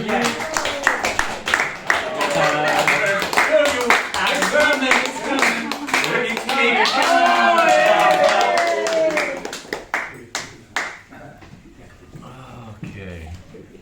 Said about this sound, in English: A big applause for you all.